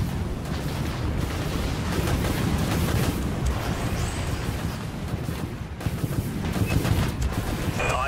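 Missile silos fire volley after volley in the Dreadnought space-combat game: a dense, unbroken roar of launches and blasts, loud and close, rumbling on steadily for several seconds.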